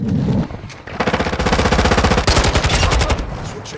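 Loud, close automatic gunfire from Call of Duty: Modern Warfare II on PS5, rapid sustained bursts after a short lead-in, with no talking.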